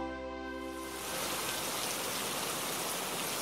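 Heavy rain falls on the Salkantay trekking route in the Peruvian mountains, a dense, steady hiss that swells in after a brief tonal sound in the first second.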